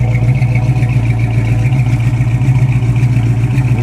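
A 1969 Chevrolet Camaro V8 idles without headers, a steady loud low rumble with a slightly lopey pulse throughout, close by and with no talk over it.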